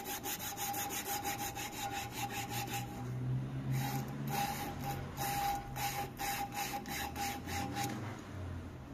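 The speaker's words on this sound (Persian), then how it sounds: "این قسمت رو هم با سنباده باریکتری شروع میکنیم به" Hand sanding of a wooden knife handle with fine, narrow sandpaper, a steady run of close, repeated rasping strokes with a rhythmic back-and-forth scrape, alone and without talk.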